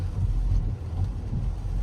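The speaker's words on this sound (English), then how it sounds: "Engine is pretty noisy." Engine noise inside a 2023 Buick Envision ST while driving in pouring rain, a steady low drone with road rumble, continuous and moderately loud in the cabin.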